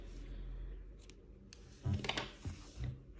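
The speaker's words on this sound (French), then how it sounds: "Donc là je vais couper le fil, je vais le couper un peu long" Scissors snip through yarn while sewing a flat crocheted teddy bear comforter, a few close, crisp cuts clustered together near the end, faint and alone with no talk.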